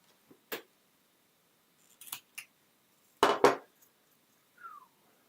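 Carving knife cutting into a wooden gnome: a few separate, faint scraping and snicking cuts spaced out over several seconds against near silence, with one slightly louder double cut in the middle.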